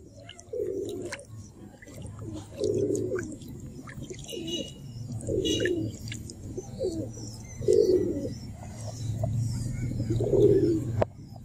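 Pigeons cooing in low, repeated rounds every couple of seconds, close by, with faint rustling and light background noise, as the birds bathe in pink herbal medicine water.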